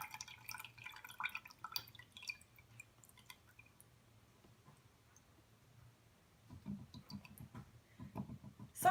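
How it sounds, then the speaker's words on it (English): Milk kefir is poured through a spoon into a jug, giving soft, faint drips and small clicks early on and a low trickling gurgle near the end. The sound is quiet and no one talks. "our beautiful fermented milk is going through our spoon into the jug"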